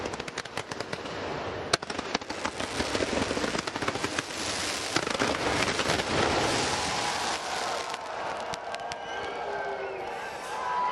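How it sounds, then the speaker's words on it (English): Fireworks bursting at the Asia Cup 2025 cricket trophy ceremony in a stadium, a dense rapid crackle of many loud bangs and pops over crowd noise, continuous for several seconds before thinning out. "Those fireworks just for you, Kuldeep."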